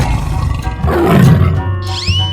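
A tiger gives a single short, gritty roar in a 3D animal slide game, close and loud, fading into a bright chime with the game's music continuing underneath.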